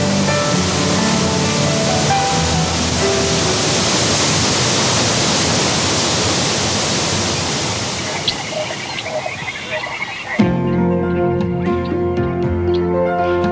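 Wailua Falls on Kauai pours in a loud, steady broadband roar of falling water that fills the scene close up, shifting near the end to a slightly quieter, thinner rush.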